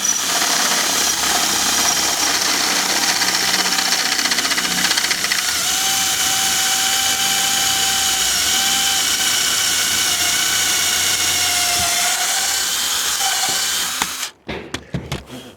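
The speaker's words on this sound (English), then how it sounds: "drill all the way through the wood on the door" Power drill boring through a wooden barn door, a loud continuous whine that rises and dips slightly as the bit works through the wood, then cuts out abruptly near the end.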